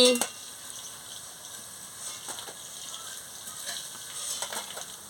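Shrimp fritters frying in hot oil give a faint, steady sizzle with occasional crackles and stirring clicks, close by, after a brief tone at the start.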